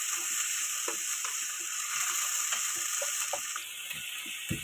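Onion, ginger and garlic paste sizzles steadily in a hot pan while a spoon stirs it, the frying hiss constant and loud, broken by soft scraping taps of the utensil.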